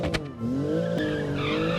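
Rubber tyres of a Lego car squealing in the racing game Automation, a sustained high tonal screech that wavers and bends over nearly two seconds, loud and close, with engine hum beneath.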